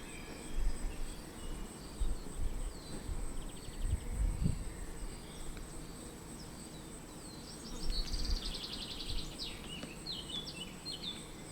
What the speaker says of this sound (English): I just hear some bees sum around and some birds in the distance